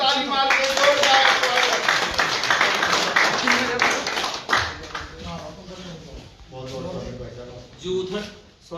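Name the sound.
audience clapping to welcome a new party member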